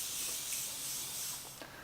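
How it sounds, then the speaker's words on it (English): Morphe Continuous Setting Mist sprays onto a face as a soft, continuous airy hiss that lasts nearly two seconds, faint and close with a slight taper at the end. "Now all I have to do is spray my face and set it"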